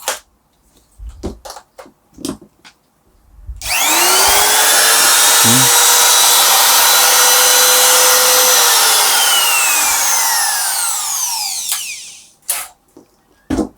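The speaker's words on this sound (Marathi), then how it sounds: "ते ट्रिमर मशीन तुम्हाला मी चालू करून दाखवतो याचा आवाज तुम्ही या ठिकाणी पाहू शकता" A new electric wood trimmer router whines up to a loud, steady high-pitched run for about eight seconds, then winds down, with faint clicks and handling noises before and after.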